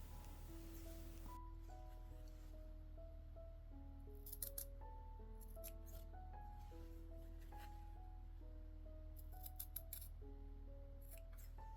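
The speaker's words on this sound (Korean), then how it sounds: "말의 턱 부분과 다리 부분도 홈질선에 최대한 가깝게 가위집을 내주세요." Scissors make quick, crisp snips into fabric close to the running-stitch line on a red horse keychain's jaw and legs, in short clustered bursts over soft background music.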